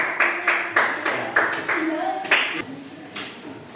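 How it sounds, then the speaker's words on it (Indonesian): Sixth-grade pupils in a classroom clapping hands in a loud, regular rhythmic pattern, about three claps per second, with a voice briefly heard alongside. "Terima kasih. Tepuk tangan."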